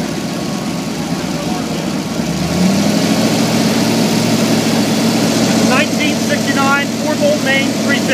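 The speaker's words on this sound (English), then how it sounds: "We're going to take the oil pan off in just 1 second and run this without oil." An engine runs without oil after its oil pan has been removed, holding a steady, rumbling idle with a slight shift partway through, while a voice talks over it near the end.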